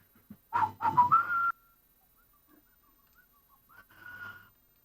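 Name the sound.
person whistling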